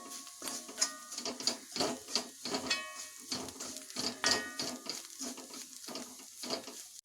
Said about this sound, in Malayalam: നന്നായിട്ട് ഇതിൻ്റെ പച്ചമണം മാറണ വരെ ഒന്ന് ഇളക്കി കൊടുക്കാം